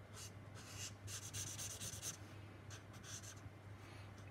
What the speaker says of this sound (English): Gonna colour in this background bit here, just yellow.